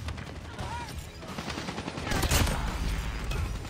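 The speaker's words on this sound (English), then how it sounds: "Sentry gun deployed." Sentry gun fire in the game Outlaw Noon, a steady dense stream of automatic shots at mid distance, growing louder and heavier toward the end amid battle noise.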